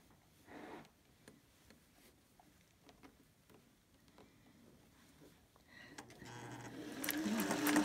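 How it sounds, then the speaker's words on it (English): A sewing machine stitches a collar stand, running in short bursts with faint ticking and rising to a steadier, louder run toward the end, close by. "Sew forward, little back stitch, couple stitches, not much."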